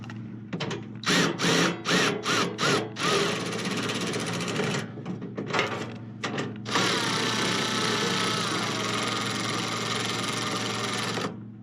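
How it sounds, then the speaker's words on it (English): Ratchet tightening bolts on a Kohler generator during an oil leak repair, a burst of rapid clicking strokes in quick rhythm followed by a sustained mechanical whir, close up. "switch my ratchet to tighten"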